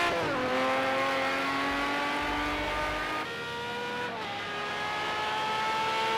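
A race car in the Project Cars 2 video game on the Catalunya circuit, its engine holding a steady high whine that rises through the gears as it runs toward the finish line, loud and continuous without talk.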